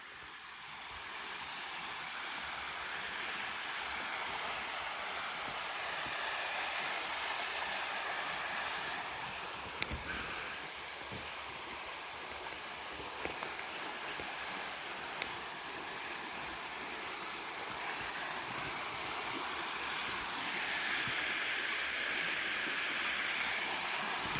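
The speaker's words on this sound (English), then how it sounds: "And this stream down here is always crystal clear." A crystal-clear forest stream near Florence, Oregon rushes steadily, a continuous broadband wash of flowing water that swells slightly over time, with a few faint knocks and no talking.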